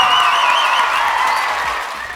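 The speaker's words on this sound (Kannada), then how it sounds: "ಬರ್ಲಿ ಜೋರ ಚಪ್ಪಾಳೆ" A studio audience claps steadily for contestants' performances on a Kannada TV competition show's cine battle round, a dense, fairly loud wash of applause with bright tonal sounds above it, gradually fading toward the end.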